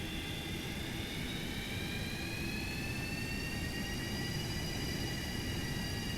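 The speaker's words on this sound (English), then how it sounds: "Listen to these engine sounds" Jet engines of a Boeing 737-200 roar during taxi, a steady loud rumble with high whining tones slowly rising and shifting, heard from close by and without talk.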